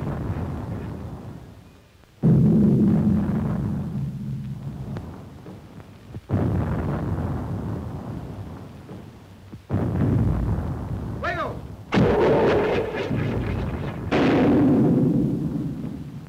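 Artillery guns of the Spanish Civil War fire in a series of heavy booming blasts, about five loud shots spaced a few seconds apart, each followed by a rumbling decay, with a voice briefly heard amid the barrage.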